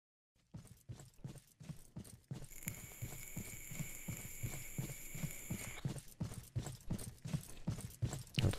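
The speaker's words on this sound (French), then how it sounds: "Si je mets juste les bruits de pas, vous allez l'entendre partir de complètement à gauche, passer devant la caméra et se positionner à droite." Footstep sound effects in a live sound mix, panning from far left across to the right: a steady run of evenly spaced thuds under a faint high-pitched tone, slowing near the end, with no talk.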